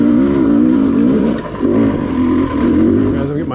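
A Sherco dirt bike engine revs loud and close, pitch rising and dipping as the rider shifts back into first gear, with no one talking.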